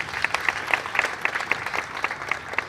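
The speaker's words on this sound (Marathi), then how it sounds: "तर त्यांचं सगळ्यांनी आपण टाळ्या वाजून स्वागत करावं" Audience at a commemoration meeting applauding to welcome activists released on bail: steady, moderately loud group clapping with distinct rhythmic beats running throughout.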